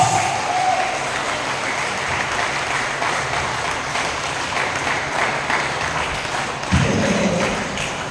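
A church congregation claps together in a sustained, even wash that holds steady, then a thud lands near the end and the clapping swells briefly again.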